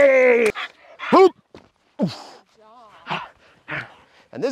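German Shepherd or Malinois puppy, a European import, letting out several short yips and barks with whimpering between them, fairly close, while people talk and call out around it.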